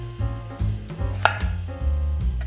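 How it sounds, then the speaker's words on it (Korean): A knife chops a cucumber into short lengths on a cutting board, about eight sharp, evenly spaced thuds in quick succession, close and clear with no talking. "앞에 오이가 준비됐는데 이거를 이제 5cm 간격으로 잘라줄 거예요."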